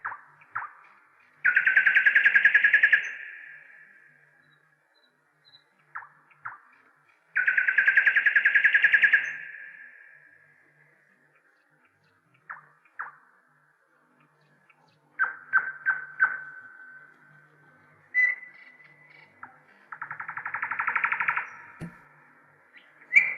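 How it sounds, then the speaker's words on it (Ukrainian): A nightingale sings in bursts: rich, buzzing trills alternate with short whistled notes and pauses, fairly close and clear with no talking. "Так співає соловей."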